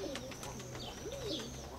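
Soft, repeated cooing of young pigeons during flight training, low rolling calls close by over a faint background hum, with a few light taps.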